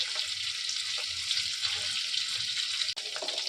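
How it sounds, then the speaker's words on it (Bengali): Cauliflower frying in a pan alongside carrot, a steady bright sizzle with faint stirring underneath, holding even for a few seconds with one brief dip near the end. "ফুলকপি দিলাম বাঁধাকপিটা আর ক্যাপসিকামটা আমি একটু পরে দেব এগুলো ভাজা হোক"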